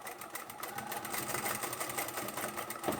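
A sewing machine runs steadily, stitching the lining of a fabric storage bag, its fast even needle chatter close and continuous for the whole stretch.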